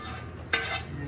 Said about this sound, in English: I'm just scraping the pan.